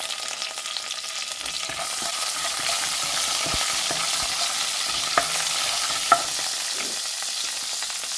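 Urad dal, red chili and curry leaves fry in hot oil with a steady, continuous sizzle while a spoon stirs them, a few sharp pops rising above the hiss.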